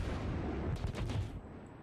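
Naval gunfire from an enemy cruiser in a World of Warships match: a few rumbling low booms blur together mid-clip over a steady wash of game noise. No one speaks.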